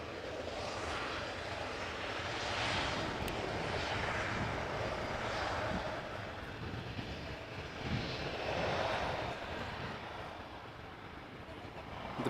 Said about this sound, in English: We've got an E2 Embraer 195 from KLM behind it. That has arrived from Berlin.